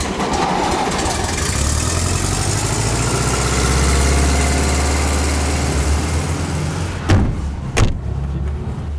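A vintage rally car's engine idles loudly and close with a steady low rumble, then a couple of sharp knocks or clunks near the end.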